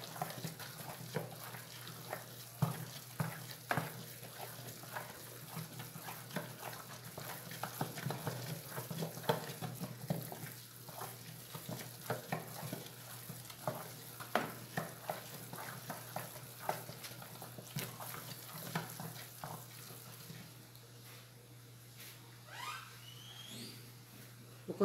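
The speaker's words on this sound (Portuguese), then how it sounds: "Vou continuar mexendo aqui pra não demorar muito, tá?" A spoon stirs a large batch of homemade liquid soap made with supermarket alcohol, giving a long run of soft, irregular sloshing and scraping that stays steady and close.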